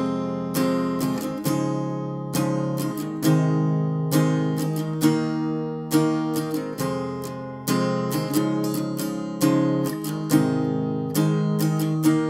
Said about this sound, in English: It's just going to be all strumming.